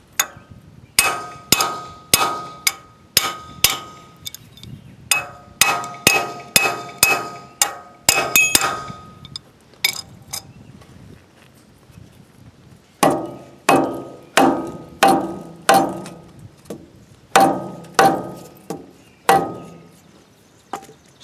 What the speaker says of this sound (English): start with the soft hammer.